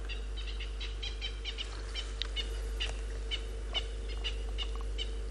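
Natal francolins call in the background on a South African morning safari, faint repeated chirping notes over a steady low hum with no speech.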